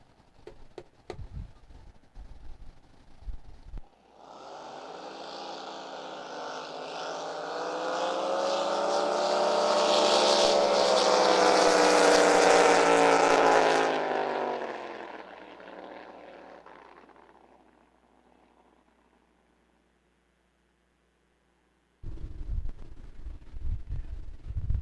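A drag racing boat roars through a qualifying run, its loud engine swelling and sustaining for about ten seconds before fading away into silence, with announcer commentary and crowd noise framing it at the start and end.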